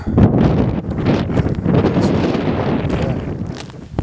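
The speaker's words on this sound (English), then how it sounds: "It's fucking windy up here, dude." Strong gusting wind on the summit of Mount Shasta, California, buffets and roars against the microphone, loud and rumbling, surging and easing without any voices.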